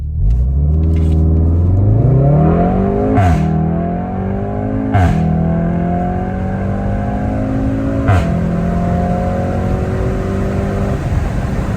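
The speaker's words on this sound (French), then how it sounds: "Je fais pas launch control, je pars juste en première. Écoute-moi ça." A Volkswagen Golf 7R with a new exhaust revs hard and climbs in pitch accelerating in first gear without launch control, with a few sharp shifts or pops along the way, loud and close.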